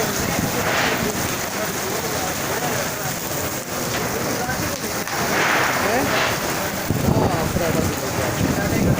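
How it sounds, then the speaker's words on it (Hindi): Heavy rain pours down in Islamabad as a dense, continuous hiss and patter on surfaces, steady and loud throughout with occasional gusty swells. "बहुत तेज बारिश है"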